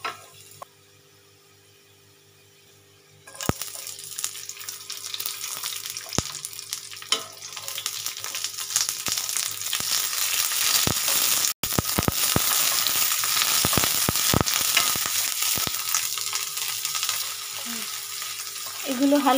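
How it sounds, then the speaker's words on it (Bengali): Garlic, onion and capsicum sizzle in hot oil, a quiet start giving way to a loud, steady frying hiss broken by sharp spatters and scraping stir clicks, with no talk. "প্রথমে রসুনটা হালকা পিঙ্ক কালারের হয়ে গেলে তারপরে পেঁয়াজ আর ক্যাপসিকামটা আমি হালকা ভেজে ওর মধ্যে সয়াবিনটা দেব।"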